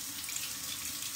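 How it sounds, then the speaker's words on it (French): Hands rinsed under a running kitchen tap during a batch-cooking session with tomatoes and feta; a steady, close rush of water pours into the sink for a moment with no talking. "j'arrive, je me rince les mains"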